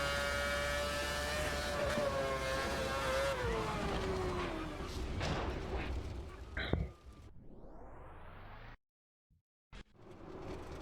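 A racing car engine in a video game roars and whines through gear changes on the Nordschleife, revving high and steady, then drops out abruptly into near silence before the engine noise returns.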